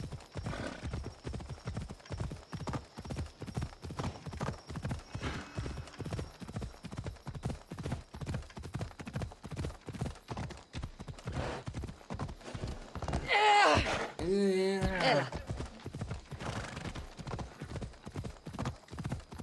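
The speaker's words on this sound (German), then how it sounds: "Reiten auf meinem Pferd aus." Steady, rhythmic hoof clip-clops from a horse at a trot in the video game Assassin's Creed Odyssey, continuous throughout, with a brief burst of whinny-like noise near the end.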